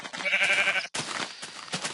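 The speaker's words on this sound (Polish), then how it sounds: "Owce. Piękne." A sheep in Minecraft bleats once with a loud, wavering cry, then breaks off into a short pause and softer in-game background sound.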